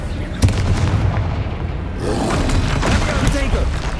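A Confringo spell explodes in the video game Hogwarts Legacy, a loud booming blast over continuous dense game noise, with further crackling bursts later under a voice talking.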